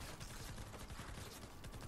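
Rapid bursts of Fortnite gunfire crackle continuously, dense and steady throughout, with no voices.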